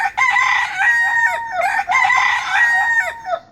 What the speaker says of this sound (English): The rooster crows early in the morning at sunrise.